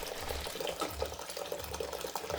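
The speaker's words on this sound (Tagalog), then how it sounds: "lalagyan ko lang din ito ng tubig" Water poured from a tap or jug into a cornstarch mixture for homemade ice cream, a steady splashing and trickling fill that runs continuously and fairly close, with no voices over it.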